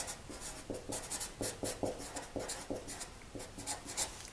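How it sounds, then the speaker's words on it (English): A pen scratches across paper in short, uneven strokes, close and faint, as formulas are written out on a new page. "I'm gonna write them on a new page."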